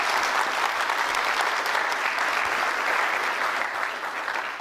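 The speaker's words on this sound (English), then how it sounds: "Can we just have a round of applause?" Sustained applause from an audience at a live public event celebrating a space quantum science lab, dense steady clapping close and loud, fading slightly at the end with no talk.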